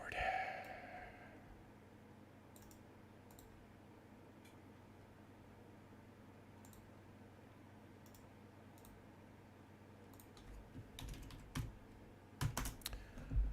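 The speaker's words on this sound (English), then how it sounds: "Oh, boy, this keyboard." Rapid, uneven clicking of a computer keyboard being typed on, quiet and close for most of the stretch, then bursting into louder, harder keystrokes near the end, with a faint voice muttering in between.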